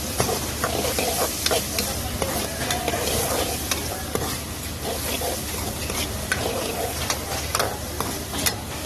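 Chicken sizzles steadily in a hot pan, with occasional scraping and stirring clicks over the constant frying hiss.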